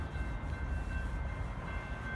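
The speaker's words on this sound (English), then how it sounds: "The next Metra train approaching your station will be a Metra Express train and will not stop." An inbound Metra 188 express commuter train rushes through the Riverside, Illinois station without stopping, a loud, steady rumble of rolling wheels with a sustained high tone, close and alone.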